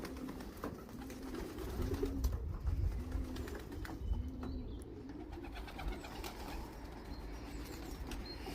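Young racing pigeons being let out in 2022, cooing softly and repeatedly over steady outdoor background noise, with occasional wing flaps.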